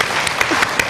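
Close, dense applause from a TV talent show audience, steady clapping filling the whole brief moment.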